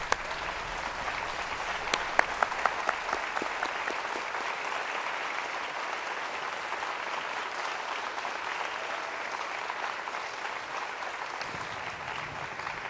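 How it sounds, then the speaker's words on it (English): Sustained applause from a theatre audience for the candidates after a Republican gubernatorial debate at the Providence Performing Arts Center, dense and even, with a few sharp claps early before settling into a steady roar, no voices heard. "your chance to applaud the candidates"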